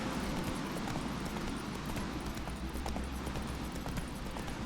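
A horse galloping in The Witcher 3 video game, steady rapid hoofbeats clopping close and clear throughout with no talk over them.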